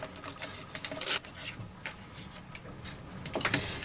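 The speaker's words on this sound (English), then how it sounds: "let's just add a little bit of embossing, and we'll use this A5 Christmas embossing folder" An A5 Christmas embossing folder is pressed through an embossing machine onto card, giving soft scattered clicks, rustles and a sharp crack near the middle, close and fairly quiet.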